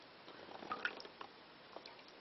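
Milk is poured into a pot on the stove, a faint thin liquid trickle with small drips and splashes that runs unevenly for a couple of seconds.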